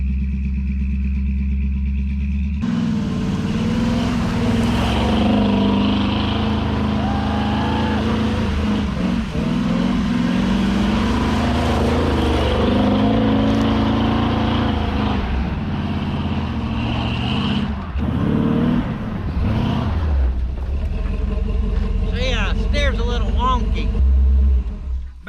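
A 1977 Chevrolet 4x4 truck engine roars loudly and steadily as it climbs a wet hill, with the revs rising and falling, clattering bursts along the way, and a whooping voice over the engine.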